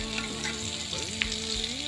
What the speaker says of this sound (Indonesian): Nah, teri goreng, teri basah goreng.